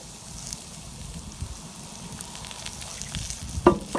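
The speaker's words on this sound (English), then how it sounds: "You can hear them to start to sizzle." Mushrooms and onions sizzle in oil on a barbecue grill, making a continuous soft crackling fry with small pops and a few sharper spits toward the end.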